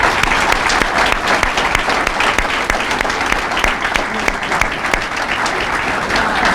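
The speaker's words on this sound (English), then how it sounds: "please give a loud round of applause to all of our speakers" A large audience bursts into sustained, loud applause for speakers at a wall-hammering ceremony for a new company headquarters, dense steady clapping filling the whole stretch.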